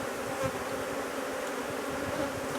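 Honeybees at a hive hum in a dense, continuous buzz, moderately close and steady with no voices over it.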